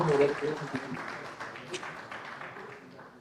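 Audience applause ringing out for the four winners of the Managerial Excellence Award standing on stage at an awards ceremony, a dense wash of clapping that starts strongest and slowly tapers, with voices murmuring underneath.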